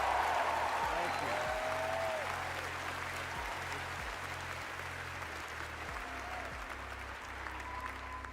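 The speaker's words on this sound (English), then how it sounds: "Give a big round of applause to these two guys for the great circle." Steady applause honoring two players during a livestream, a dense continuous patter of clapping that gradually softens, with a few brief voice-like tones rising faintly above it and no clear speech.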